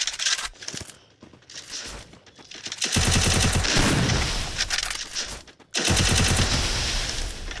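Gunfire in a mobile shooter video game, with scattered shots and then long, dense, loud bursts of rapid automatic fire and a short break near the end.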